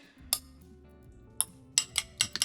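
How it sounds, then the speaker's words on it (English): Eggs being whisked in a bowl for an olive and ham loaf, with a few light, close metallic clinks of the whisk against the bowl, scattered and then quickening, with no talk. "let's give these eggs a little bit of a whisk"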